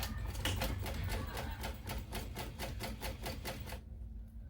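Domestic sewing machine running steadily while stitching down one side of a small mini backpack, a fast even mechanical chatter of needle strokes close up that stops abruptly near the end.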